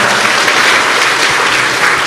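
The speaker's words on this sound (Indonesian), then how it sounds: "boleh kasih tepuk tangan dong buat Abah" An audience at a lively religious talk gives a dense, steady round of applause, loud and continuous throughout with no speech over it.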